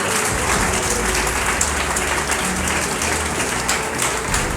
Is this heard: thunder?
no